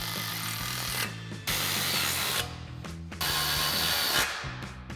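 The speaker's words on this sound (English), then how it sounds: "We'll come back in with our 6mm Allen socket and tighten these down." Power socket tool running in bursts while tightening three 6mm Allen head bolts on a RedRock Extreme HD rear bumper for a Jeep Wrangler JL, a steady whirring drive broken by short pauses, close and loud with no talk.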